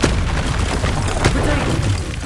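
Confringo blasting spells explode in the Hogwarts Legacy video game, making loud, dense booming blasts that rumble on continuously, with a voice speaking over them.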